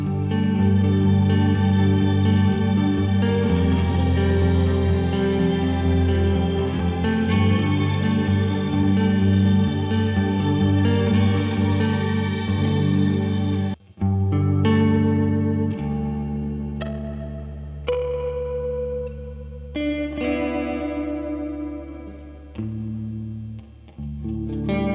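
Electric guitar played through a Keeley Caverns V2 shimmer reverb pedal, sustained chords washing into a bright, octave-up shimmer tail, then a brief break before sparser notes ring out with long, lush reverb decay.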